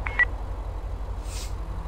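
A phone panic button in a GTA 5 roleplay game gives a short, faint electronic beep near the start, followed by a soft synthetic tone a little later, over a steady low hum.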